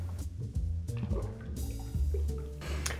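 Yellow Chartreuse herbal liqueur, a quarter ounce, pours into a bar jigger with short liquid trickles and drips, close and fairly quiet.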